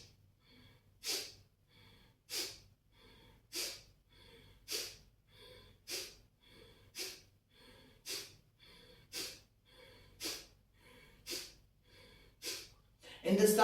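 Kapalabhati breathing, a steady series of about a dozen forceful nasal exhalations in an even rhythm, close and clear, each short sharp puff separated by a quiet passive inhale.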